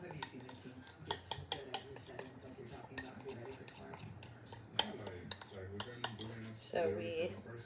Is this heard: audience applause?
no